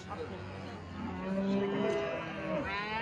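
Black Pied cows at the Ozgon livestock market give a deep, drawn-out moo, close and fairly quiet, against a background of market noise.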